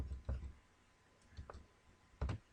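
Typing on a computer keyboard while entering code for a math exercise: a few soft, separate key clicks at irregular intervals, quiet and close, with no talk.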